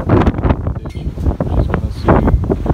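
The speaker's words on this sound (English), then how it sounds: "Unfortunately now the weather is really windy" Strong wind buffeting an outdoor microphone in irregular loud gusts, a rough continuous roar with no other clear sounds.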